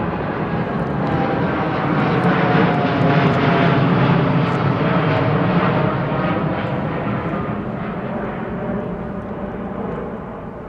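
A Qatar Airways Airbus A380 departs London Heathrow with a loud, sustained jet engine roar that stays broad and powerful throughout, fading only slightly toward the end.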